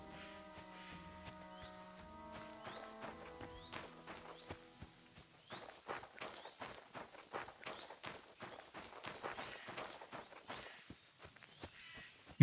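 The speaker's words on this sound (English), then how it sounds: "Oh, is it just a horse?" Horse walking in the medieval video game Kingdom Come Deliverance 2, a steady run of soft hoof clops over a background of game music that fades away partway through.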